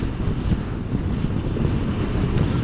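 Blustery wind buffets the microphone outdoors during a motorbike ride, a loud, constant low rumble with no speech.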